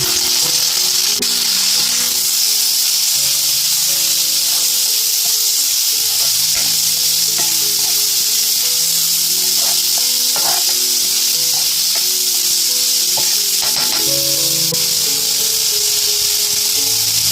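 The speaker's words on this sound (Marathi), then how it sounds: "आता आपला कांदा लालसर झालेला आहे. आता हे मी टमाटर टाकून घेते." Tomatoes are tossed into browned onions frying in a pan for a traditional Konkan wet cashew bhaji, raising a loud, steady sizzle with faint stirring scrapes and crackles throughout.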